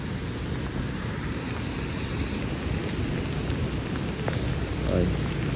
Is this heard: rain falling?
yes